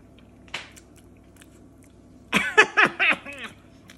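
Someone biting into and chewing durian fruit at close range, one soft sound early, then a cluster of four or five wet, crunchy chews in quick succession after a quiet pause.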